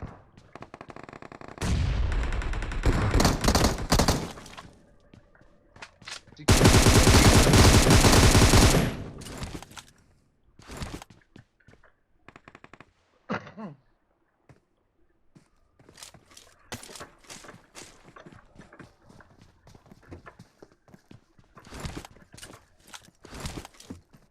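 Automatic and single gunshots in a first-person shooter, with loud sustained bursts of rapid fire, then scattered shots and footsteps continuing in the background.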